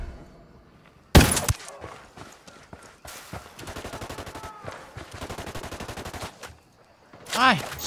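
Gunfire in Ghost Recon: a sharp, loud opening crack, then rapid bursts of automatic fire rattling close by in quick stuttering strings, with a short vocal outburst near the end.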